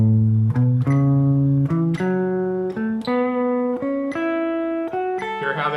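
A blues guitar solo phrase in a dotted eighth note rhythm, single picked notes ping-ponging back and forth with small pauses between them, loud and close with no talking.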